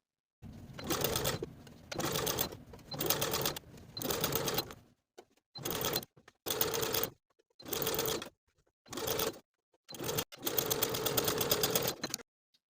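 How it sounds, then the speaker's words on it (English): A sewing machine understitches the facing of a 1940s-style blouse, running in eight short bursts of rapid stitching separated by brief pauses, close and clear with no talk. "sew that facing to its seam allowance all the way around, sewing close to the seam"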